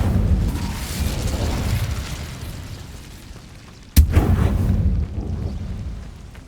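An Incendio fire spell cast in Hogwarts Legacy, a sharp sudden burst and whoosh of flame midway, set against a rumbling, roaring combat background.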